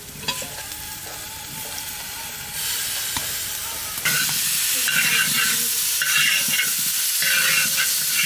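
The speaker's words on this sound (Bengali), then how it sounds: "আর দেবো টমেটো।" Tomato goes into sizzling spices for mutton kosha and is stirred around the pan: a constant close hiss and frying crackle that grows louder partway through, with scraping strokes and no voices.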